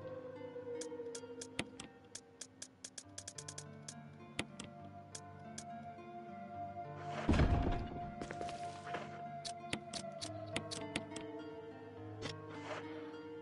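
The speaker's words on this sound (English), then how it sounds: "isn't that safe room music great?" Quiet safe room music from Resident Evil Remake plays as soft sustained tones, with sharp ticking clicks scattered throughout and a brief, louder rustling burst partway through.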